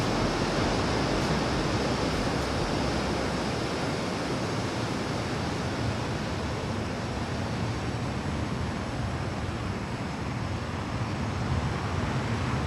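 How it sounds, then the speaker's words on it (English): Aermacchi MB-339 jet engines warm up in Microsoft Flight Simulator, a constant broad roaring rush that holds loud and steady throughout, with no talking. "So you can hear their jets warming up."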